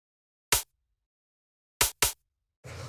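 A second percussion loop in a fast techno drum track plays short dry clicky hits in an uneven pattern, one alone, then a quick pair, followed by a brief noisy burst at the end.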